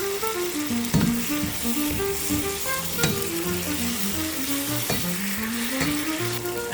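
Potato and crab curry sizzles steadily in a pan, a loud continuous fry with repeated scraping stir strokes and clinks, no one speaking.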